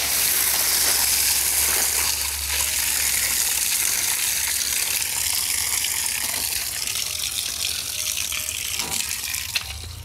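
Water rushes out of a 50-foot Ohuhu garden hose in a loud, steady gushing hiss that lasts the whole clip. The spray sounds close and fades slightly toward the end, and no one speaks.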